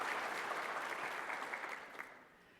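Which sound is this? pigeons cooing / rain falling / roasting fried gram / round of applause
round of applause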